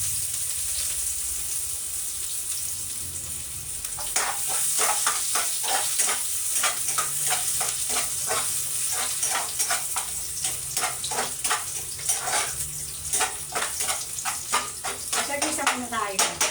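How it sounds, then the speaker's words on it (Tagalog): Jackfruit sautés in a pan with a steady close sizzle, broken by repeated scraping and stirring strokes, while a person talks throughout. "Gisa-gisa lang tayo ngayon."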